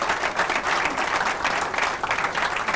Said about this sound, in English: Everybody please give it up for Matthew.